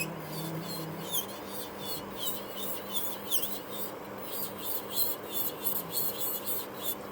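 A file working acrylic nail product down on fingernails, giving a soft, steady, rapid back-and-forth rasping at close range that stays fairly quiet throughout.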